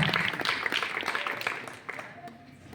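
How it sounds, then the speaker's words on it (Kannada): Audience at a Buddha Jayanti devotional gathering clapping to welcome a guest, a lively burst of applause that gradually thins and fades, with a voice speaking over it. "ಚಪ್ಪಾಳೆ ಜೋರಾಗಿ ಚಪ್ಪಾಳೆಯನ್ನ ಕಟ್ಟದ ಮುಖಾಂತರ ಬಯಸೋಣ"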